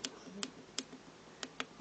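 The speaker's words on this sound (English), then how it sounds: "hear that little clicking that is from the input." Small clicks come from an input on a Velleman K8055 USB interface board: about five faint, sharp ticks at irregular intervals in an otherwise quiet room.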